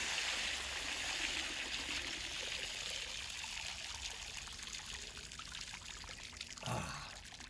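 Water pours in a steady trickling stream for several seconds, close and fairly loud, with a brief gulp or splash near the end during a drinking challenge on a live stream.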